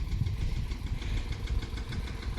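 A farm tractor standing still with its engine idling nearby, a steady low throbbing rumble with an even pulsing rhythm throughout, no voices.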